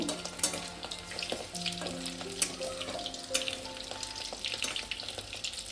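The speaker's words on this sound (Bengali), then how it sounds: "আমি এগুলোকে ভেজে আপনাদেরকে দেখাচ্ছি।" Paneer cubes frying in oil for paneer manchurian, a continuous crackling sizzle under soft background music, with occasional light clinks as pieces are turned.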